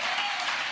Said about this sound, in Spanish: Si vas a aplaudir, hazlo con fuerza.